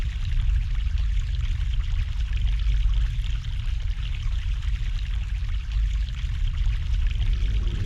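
Fresh mountain water pours steadily in The Longest Journey video game, a continuous, close, full rushing stream with no talk over it.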